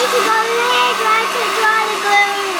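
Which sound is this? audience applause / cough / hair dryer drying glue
hair dryer drying glue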